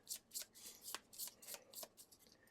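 Tainted Grail board game cards are shuffled by hand, producing about eight quick riffling bursts in an uneven rhythm, close and fairly quiet with no talking.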